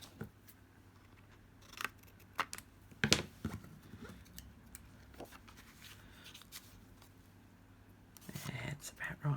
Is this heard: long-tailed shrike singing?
no